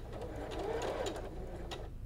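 A sewing machine stitches a quilt block with a steady, continuous mechanical whir that holds close and even throughout, with no talking.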